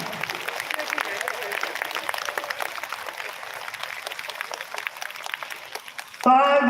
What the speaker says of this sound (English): let's give both doctors a huge round of applause